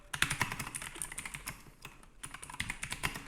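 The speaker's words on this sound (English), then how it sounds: "It types quite well, and it's good for bursty typing." Fast bursts of typing on a Keychron K10 mechanical keyboard, crisp clicky keystrokes close to the microphone in quick runs with a short pause in the middle before the clatter resumes.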